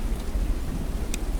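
Rain and gusting wind from the town streets of a text-based RPG video game, a short, steady wash of rain with a brief brighter spatter near the end and no voices.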